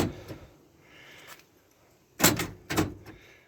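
Power door locks on a Jeep Grand Wagoneer, upgraded with a door lock relay kit, actuate together. Two sharp, loud mechanical thunks come about half a second apart, after fainter clicks and quiet handling noise.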